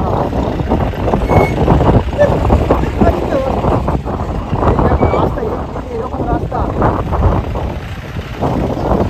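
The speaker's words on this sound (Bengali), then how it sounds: "এইটা আমাদের জিপ ছিল, এই জিপে করে আমরা আসছি" Jeep on a steep mountain road near Ooty in the Nilgiri hills, a loud rumbling engine with strong wind buffeting throughout and voices talking over it.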